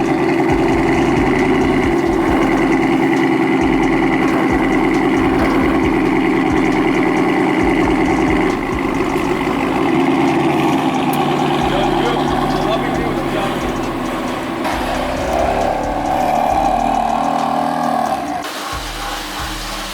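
A BMW E30 engine runs steadily and loud up close as the car is moved, a continuous low idle-like drone with slight shifts in pitch, and people talk over it.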